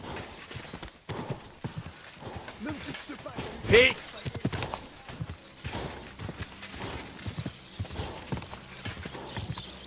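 Horse hooves clip-clop in the video game Kingdom Come Deliverance 2, an uneven series of close hoof steps on ground with a brief louder burst midway, as voices talk over them.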